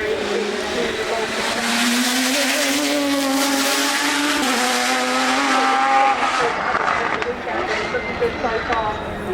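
A 1990s-era race car brakes hard at the Goodwood Festival of Speed, its engine note dropping through downshifts with tire squeal, loud and close, then climbing again as it powers away.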